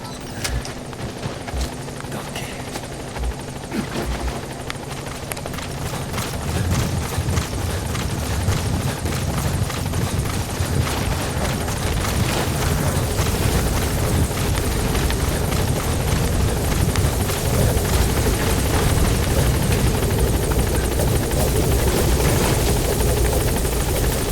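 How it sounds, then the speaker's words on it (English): A video game support helicopter in Metal Gear Solid V: rotor chops and engine roar build and hold steady, loud and close, filling the whole stretch with continuous noise. "Support helicopter has arrived."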